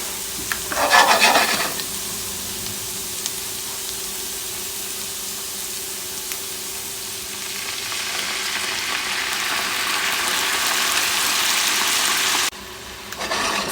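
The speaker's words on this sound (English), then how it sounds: "you're going to cook off the sherry so that the alcohol boils off" Sherry cooking off in a pan of soft chicken livers: a loud, continuous frying hiss that swells toward the end, with an early burst of spattering, close and without voices.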